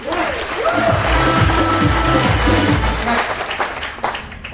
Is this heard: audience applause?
yes